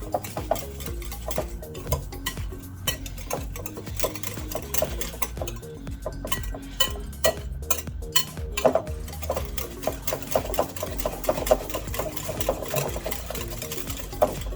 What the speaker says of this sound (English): you're gonna whisk it all together.